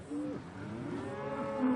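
Cattle on an outback station in tough country, one animal mooing in a long, wavering low call that carries clearly on its own.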